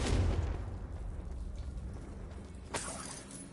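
A Confringo fire spell bursts in Hogwarts Legacy, a loud low boom with crackling debris that fades into a rumbling tail, then a second sharp crack near the end.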